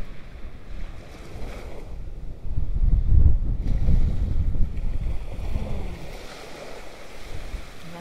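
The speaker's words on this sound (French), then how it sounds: "Je vous invite à vous laisser bercer par le doux murmure des vagues, peut-être le vent aussi que vous entendez." Gentle ocean waves wash in and out with a steady surf rush, swelling in the middle and joined by a light wind buffeting the microphone.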